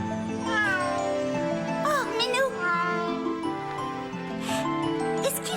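A cat meows several times, close and clear, in drawn-out rising and falling cries over a steady background of music.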